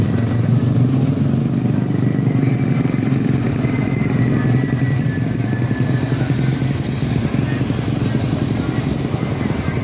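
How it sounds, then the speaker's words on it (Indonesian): Yanti bus pulling out of Terminal Baru Solok, a steady mid-pitched engine drone with clattering close by, with a voice speaking throughout over the engine. "terlihat bus legendaris Yanti meninggalkan Terminal Baru Solok menuju Belilas"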